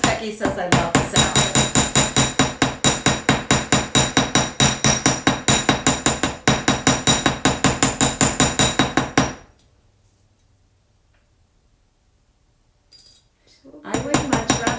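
Rapid, steady hammer blows ring out close and loud in a workshop, a long run of evenly spaced strikes that stops abruptly, leaving near silence before a few more hits return at the end.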